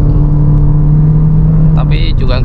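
Engine of a 2021 Toyota Yaris GR Sport with the 2NR-FE engine and CVT pulling under acceleration, a steady loud drone from inside the cabin, with someone speaking near the end.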